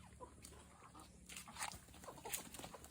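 Ducks and chickens peck at scattered grain close by, with scattered clucks, soft quacking and scratchy pecking sounds rising and falling irregularly over quiet background.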